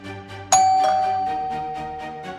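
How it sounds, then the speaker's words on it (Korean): A two-tone ding-dong doorbell chimes once, loud and close, its bright tone ringing out and slowly decaying over a soft background. "초인종이 울렸습니다"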